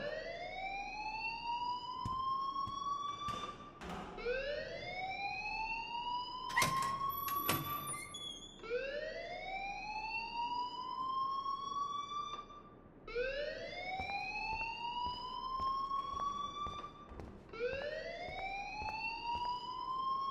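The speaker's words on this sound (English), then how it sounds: "please turn off that alarm since that's your job" An alarm blares in the video game Life Is Strange, repeated rising electronic whoops sounding one after another in a steady cycle, with a few sharper electronic blips breaking in partway through.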